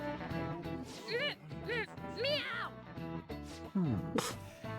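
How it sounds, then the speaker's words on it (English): Cat meowing inside the video game Persona 5 Royal, several short rising mews over game music and character speech, fairly close and moderately loud. "Did I just hear a cat just now?"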